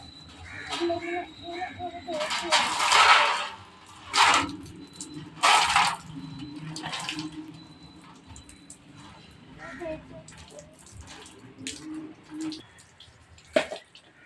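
Water rinses a natural herbal shampoo out of hair in uneven bursts of splashing and pouring, with dripping and quiet gaps in between.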